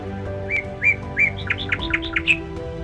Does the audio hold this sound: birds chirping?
yes